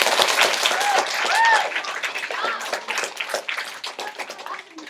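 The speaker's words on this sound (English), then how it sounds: "Round of applause, right?" A group of listeners, students, give a round of applause in a classroom during a Skype call, a brief burst of clapping that fades out while voices carry over it.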